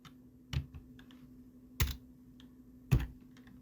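Three sharp, separate keystrokes on a computer keyboard while an Excel AVERAGE function is typed, each a crisp click about a second apart, close and quiet over a low steady hum.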